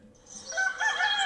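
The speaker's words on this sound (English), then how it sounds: "Rooster." A rooster crows from a phone game built with Construct 3, heard through a microphone as a single bright, rising call that swells toward the end.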